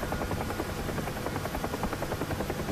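UH-1H Huey helicopter in the Digital Combat Simulator game, its rotor chopping in a steady, fast, loud rhythm that continues throughout with no talk over it.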